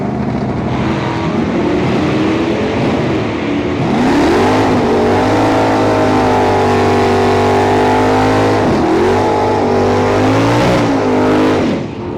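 A drag racing car at Santa Pod accelerates hard, a loud, continuous engine roar that climbs in pitch through gear changes and fills the clip from start to end.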